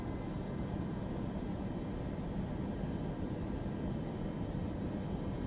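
Boeing 737 jet engines throttle up during a climb in Microsoft Flight Simulator 2024, a continuous broadband roar holding steady and fairly loud throughout, with no voices.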